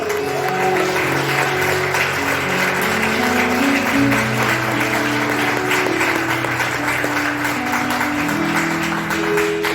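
Applause from a gathered congregation, steady and sustained, mixed with tonal music playing underneath throughout.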